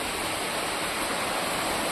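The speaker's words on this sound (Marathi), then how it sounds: "पाऊस तर खूप आहे बाहेर, पाऊस भरपूर म्हणजे भरपूरच पडतोय" Dense, steady hiss of heavy rain pouring continuously outside in Konkan, a uniform wash of sound with no pauses.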